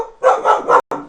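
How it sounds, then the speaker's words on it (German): A dog barking close and loud, three quick barks in a row followed by a fourth after a brief gap. "Das ist ein Hund"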